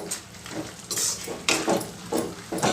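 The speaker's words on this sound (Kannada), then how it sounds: "ಈಗ ಐ ಫ್ಲೇಮಲ್ಲಿಟ್ಟು ಇದನ್ನು ಚೆನ್ನಾಗಿ ರೋಸ್ಟ್ ಮಾಡಬೇಕು" Chilli prawn fry roasting in a pan on high flame, with a soft sizzle under repeated scraping and clinking of a spatula against the pan, arriving in short irregular bursts close by.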